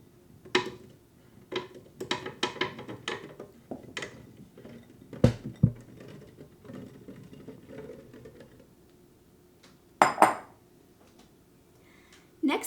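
Several soft thuds and light clatters as grapes drop into a blender, scattered over a few seconds, with a louder rattling knock near the end.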